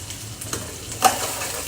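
Small bits of egg crackle and pop in hot frying oil in a home kitchen, a steady soft sizzle with one sharper crackling burst near the middle, close and fairly quiet, with no talking.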